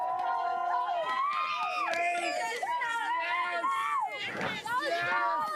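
A family cheers on a snowboarder at Revelstoke: loud, excited high-pitched shouts and whoops from several people, close and overlapping, with rising and falling voices throughout.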